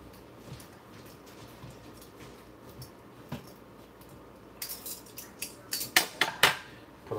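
Food is flipped in a hot toaster oven: after a quiet stretch of low background hum, a run of sharp metallic clinks and scrapes from utensils and the tray grows louder toward the end.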